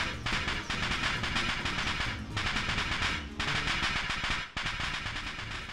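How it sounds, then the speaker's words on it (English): A dust explosion in the Steins;Gate video game goes off behind a door like firecrackers, a long, dense burst of rapid cracking pops broken by a few short gaps, loud and close. "a sound like firecrackers resounds from the other side of the door."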